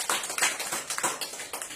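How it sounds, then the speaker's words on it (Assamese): Participants at a social science quiz clap their hands in a quick, fairly quiet burst of repeated claps, a few hands slightly out of sync, with no talking over them. "হাত তালি মাৰা"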